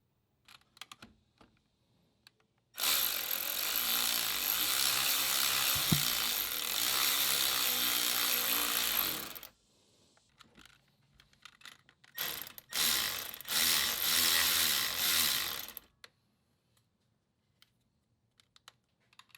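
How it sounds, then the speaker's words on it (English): Electric ratchet with a swivel attachment and 12mm short socket tightening a bolt during an alternator replacement: two bursts of loud, close, buzzing ratchet whir, a long run of about seven seconds and a shorter stuttering one, separated by quiet clicks. "I ended up using this swivel attachment with a 12mm shorty on my electric ratchet"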